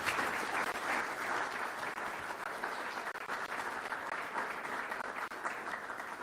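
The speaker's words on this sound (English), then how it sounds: "Let's give them a round of applause." Even, continuous applause from a forum audience for panelists and speakers, a soft wash of many hands clapping at a distance, with no voices on top.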